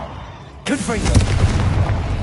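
A Confringo blasting spell explodes in Hogwarts Legacy, a sudden loud burst with a rumbling low-end tail that lingers for over a second, preceded by a spoken incantation.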